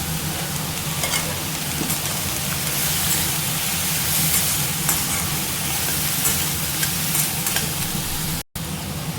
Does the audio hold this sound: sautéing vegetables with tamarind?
yes